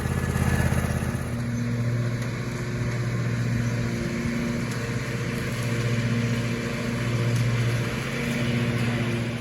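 A John Deere E140 riding mower engine runs at a steady idle nearby, a low droning hum with gently pulsing tones that stays even throughout, with no talking.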